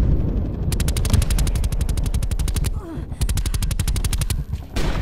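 Sentry turret gunfire in the video game Call of Duty Black Ops Cold War, loud, rapid automatic bursts in long rhythmic runs with brief pauses between them, close and dominant.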